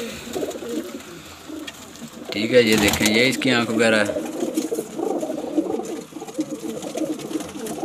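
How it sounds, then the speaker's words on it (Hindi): A green pigeon coos from close by in a loud burst of low, throbbing calls midway, set among steady talking and the background murmur of other birds. "एक ये अपना हरा कबूतर लेके आए हैं"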